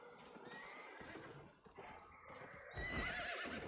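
A horse whinnies in shaky, rising bursts over clip-clopping hooves, fairly quiet, with a louder burst of movement near the end.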